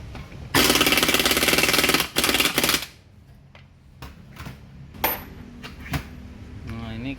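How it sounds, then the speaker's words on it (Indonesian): A hammer strikes a car's automatic transmission casing during repair work, first in a rapid, loud metallic burst, then in scattered lighter taps, with a person talking between them. "Kita dorong-dorong sedikit menggunakan palu"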